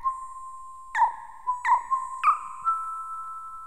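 A metallic synth tone from Ableton Operator with reverb sounds several times: a sustained ringing pitch punctuated by three sharp bright attacks, each leaving a shimmering tail that lingers and overlaps the next, then a softer final strike fading out.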